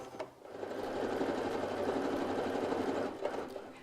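A sewing machine runs steadily while stitching a leg of a pair of leggings, giving a continuous close whirring hum of about three seconds, with short bursts at the start and end.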